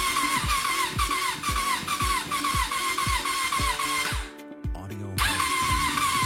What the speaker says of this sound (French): alors maintenant, on va pouvoir essayer de démarrer le moteur